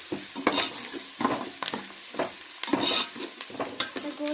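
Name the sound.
sautéing chillies in a pan until golden brown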